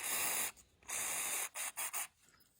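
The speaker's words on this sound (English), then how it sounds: "you're going to want to go through and spray all of the openings on the switch" Aerosol contact cleaner sprayed into the openings of a reverse light switch on a 1970 Jaguar XJ6: several close hissing bursts, two longer sprays followed by three short quick puffs, with no talking.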